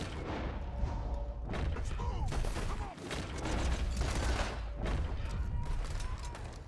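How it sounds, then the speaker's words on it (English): Dual pistols fire in Red Dead Redemption 2 amid a chaotic gunfight, sharp shots cracking in quick bursts over a busy, loud battle with other gunfire and commotion. "Thank god for these new dual pistols"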